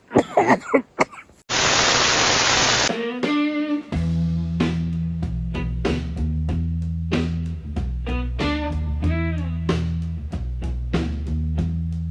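A few sharp coughs after choking during a car body conversion, followed by a burst of loud hiss and then music with plucked, sustained notes.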